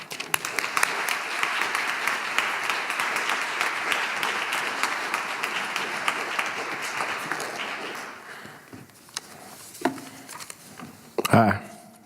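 Sustained audience applause welcoming a lecturer to the podium at a university dean's lecture, steady dense clapping for about eight seconds that fades, followed by a few scattered claps and a voice starting to talk.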